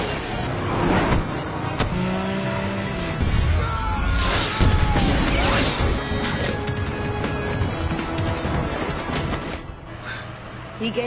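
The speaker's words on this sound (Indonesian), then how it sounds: "aksi kejar-kejaran mobil itu terhenti setelah Snake Eyes memasang bom dan meledak tepat tertabrak kereta api" Film car chase ending in a crash, with roaring engines, loud impacts and smashing noises layered with dramatic music and brief voices.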